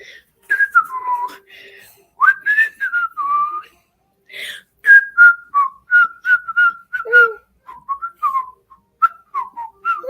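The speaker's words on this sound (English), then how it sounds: "I'm just whistling for shit." A person whistles a wandering, tuneless melody at close range in short, bright phrases separated by brief pauses, clear against an otherwise quiet background.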